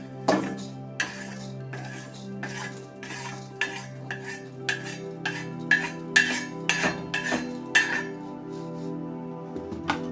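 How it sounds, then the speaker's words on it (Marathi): A metal spoon stirs urad dal dry-roasting in a pan, clinking and scraping steadily against the metal in a busy, irregular rhythm, close and clear with no talking. "हलवून घ्यायचे सारखं हलवायचं इकडून तिकडं असं एका बाजूनेच करपत नाहीत"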